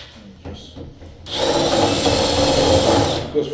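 A power drill bores a hole for a Simplex 7000 deadbolt lock, whirring loudly and steadily for about two seconds after a quieter start.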